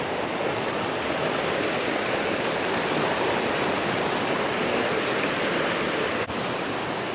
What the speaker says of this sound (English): Just look at the water streaming right through.